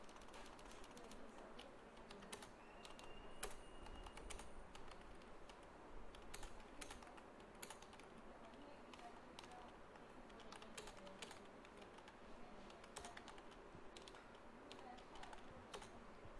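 Steady rapid clicking of keys on a computer keyboard, continuous and fairly quiet, with a few louder taps scattered throughout.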